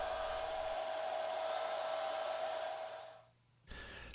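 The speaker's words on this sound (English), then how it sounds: "I moved on to my disc sander to finish everything off and make everything nice and smooth" A disc sander smooths a hardwood jitterbug lure, giving a steady whirring drone with a high-pitched tone that runs for about three seconds, then winds down and fades before a brief restart.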